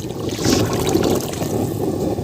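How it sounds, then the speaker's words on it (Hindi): Water pours into a pot of lentils for dhaba-style masoor chawal, a steady close splashing stream that runs unbroken and without talk. "थोड़ा पानी और शामिल करेंगे।"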